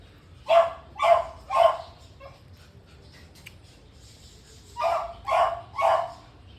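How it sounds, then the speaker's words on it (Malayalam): A pet dog barks loudly and close by, three quick barks, a short pause, then three more, while jackfruit is being cut nearby. "ഈ ചക്ക എടുക്കുന്ന കണ്ടുകൊണ്ടാണല്ലോ പട്ടി കിടന്ന് കുറയ്ക്കുന്നത്."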